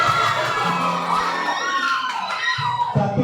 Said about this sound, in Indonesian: tepuk tangan untuk paslon 1